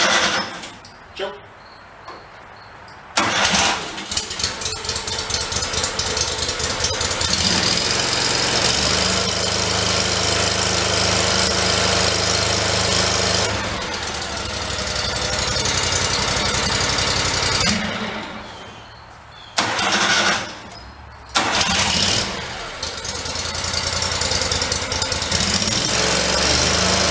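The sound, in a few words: Terramite engine starting and running after rod repair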